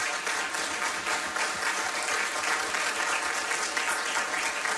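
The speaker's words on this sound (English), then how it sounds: "The veterans, we want to recognize you and give you an applause" Sustained applause from a large audience at an outdoor Veterans Day event in Bella Vista, Arkansas, honoring veterans; dense, steady clapping fills the whole stretch at an even level without letup.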